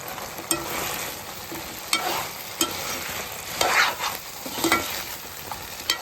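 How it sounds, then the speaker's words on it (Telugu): Paneer and cashews stirred into gravy on a high flame for kaju chilli paneer: a steady frying sizzle broken by repeated sharp scrapes and clinks of a spoon against the pan, close and moderately loud, no talking. "ఇప్పుడు మనం తీసుకున్న పన్నీరు జీడిపప్పు వేసి కలుపుకుందాము. కొంచెం హై ఫ్లేమ్లో పెట్టుకొని కలుపుకోవాలి."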